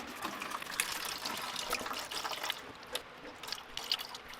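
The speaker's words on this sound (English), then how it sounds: "we will drain this into a bucket" Rinse water draining from a rusty motorcycle fuel tank into a bucket, a steady trickling splash with scattered drips, soft and continuous, with no voices.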